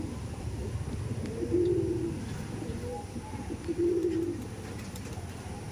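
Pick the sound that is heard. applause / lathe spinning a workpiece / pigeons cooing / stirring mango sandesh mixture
pigeons cooing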